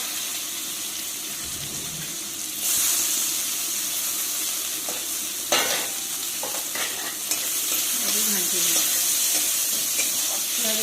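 Chopped onions and cumin fry in hot oil in a kadai while a spatula stirs, giving a steady loud sizzle with scraping, stirring clatter over it, heard close up.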